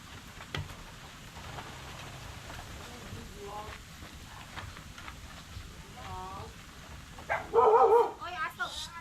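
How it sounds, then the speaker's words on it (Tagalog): A dog barks and yips in short bursts near the end, close and fairly loud, following a stretch of quiet background with people talking. "Oy, aso."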